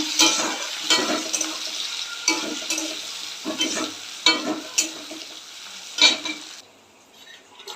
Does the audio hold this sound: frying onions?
yes